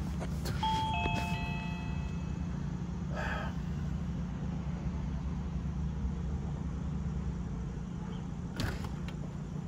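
A two-tone electronic doorbell chime rings once near the start, over a steady low engine rumble, with a few faint knocks later.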